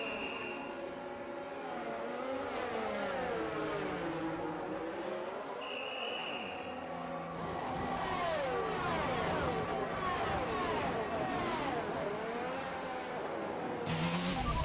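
Formula 1 car engine in the F1 22 video game, pulling into the pit lane, whines and revs with shifting pitch sweeps and gear changes, running continuously with brief bursts of higher-pitched noise.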